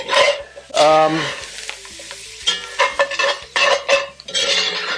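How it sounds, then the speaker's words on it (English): Chopped vegetables for a chicken, shrimp and andouille sausage gumbo sizzle in a pot while a spoon stirs them, giving close, uneven scraping strokes over a steady frying crackle. "what's going to happen now are these vegetables are going to sweat out a little bit."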